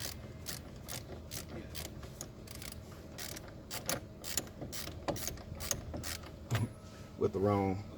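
Ratchet wrench snugging down the lower ball joint bolts on a 2002 Jeep Liberty, repeated sharp clicking strokes in irregular bursts, close by and fairly quiet, with a faint voice near the end.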